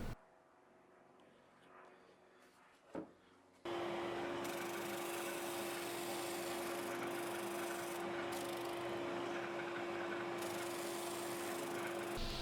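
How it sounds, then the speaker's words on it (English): A saw rips through a 3mm glossy acrylic panel, starting after a near-silent opening and then running as a loud, steady, whining roar for the remaining eight seconds. "Let me know what I'm doing wrong with the acrylic cutting here."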